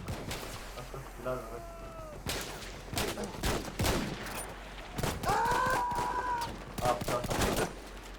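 Gunfire in the video game Battlefield 1, with bursts of shots and explosions cracking over continuous battle noise while a voice talks throughout.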